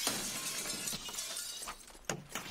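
Glass shatters in a video game, with breaking, crunchy bursts over a noisy background, followed by a couple of sharp smashing hits near the end.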